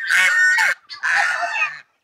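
A goose honks twice in quick succession, loud and close, each call a harsh nasal blare lasting under a second, with no other sound around it.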